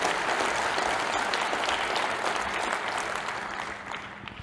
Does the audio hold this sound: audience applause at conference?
yes